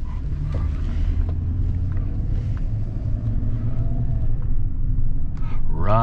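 Low rumbling, buffeting wind roar fills a moving car with one window down on a winter street, a constant throbbing drone throughout with a brief louder rustle near the end.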